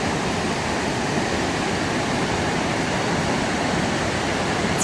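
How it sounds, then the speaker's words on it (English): Water rushes steadily down a steep intermediate hiking trail near Vancouver, forming a dense, constant roar with no break. No voices are heard over it. "Just listen to the sound of water."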